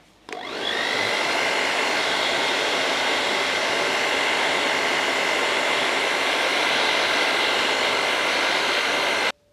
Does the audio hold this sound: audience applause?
no